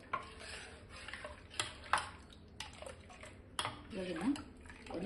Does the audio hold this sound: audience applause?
no